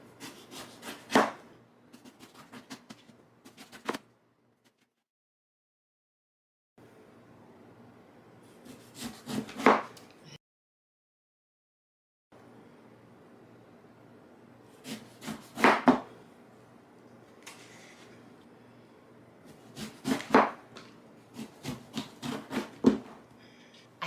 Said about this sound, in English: I'm going to cut this in slices about 1 inch in thickness or so